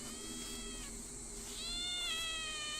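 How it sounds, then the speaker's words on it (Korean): A cat meows in two drawn-out, wavering cries in the horror video game Shadow Corridor, clear and fairly close, over a faint background hum with a slightly electronic quality. "고양이 소리 난다"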